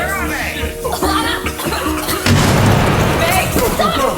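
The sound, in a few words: grenade explosion in a film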